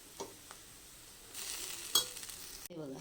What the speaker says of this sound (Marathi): ही घालायची आहे आणि चांगली परतून घ्यायची आहे